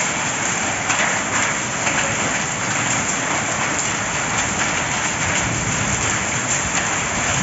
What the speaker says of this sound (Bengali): অনেক বড় বড় শিল পড়তেছে এখানে।